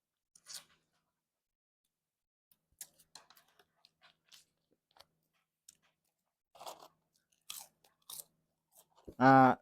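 Saudi street food being chewed up close, with sparse crunchy, wet bites and pauses between them, followed by a sudden loud burst at the very end.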